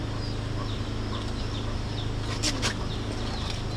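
Chickens with small chicks cluck and peep faintly over a steady background hum, with a couple of brief sharp chirps standing out near the end.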